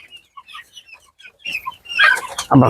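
Chickens cluck on a poultry farm holding local, Egyptian Fayoumi and Tiger breeds, scattered soft clucks at first, then louder, denser calls toward the end, close by.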